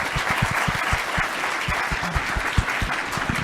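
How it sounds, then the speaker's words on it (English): Warm applause from a university audience after a keynote fireside chat, steady clapping from many hands with a few nearby sharper claps standing out. "If you would all join me in giving a warm round of applause to thank Director Chopra for coming"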